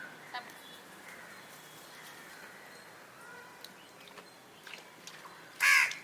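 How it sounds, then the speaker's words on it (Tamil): A few scattered crow caws, faint and distant over quiet outdoor ambience, with one louder, closer caw near the end. "இது வேற காக்கா காக்கா காக்கா"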